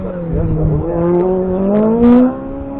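A Honda Civic race car, number 336, accelerates hard through a slalom course at Chamblon, its engine note climbing through the gears at mid distance while an announcer talks over it.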